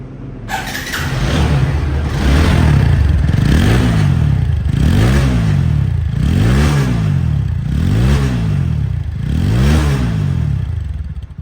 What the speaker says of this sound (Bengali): রেডি আছে বাইকটির সাউন্ড কোয়ালিটি শোনাবো